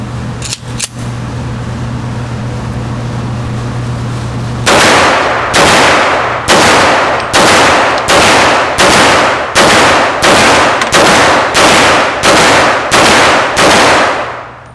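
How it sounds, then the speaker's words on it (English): A Glock 32 pistol firing X brand ammunition at a target 7 yards away: after a quiet hum, about thirteen loud, sharp shots ring out in a fairly steady rhythm, each with a brief decaying tail, close and with no talking. "We're just going to fire straight through at the target at 7 yards and see what we get."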